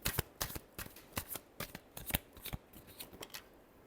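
Tarot cards being shuffled close by in a quiet room, a rapid series of crisp riffling snaps and soft papery slaps in uneven bursts, with no voices.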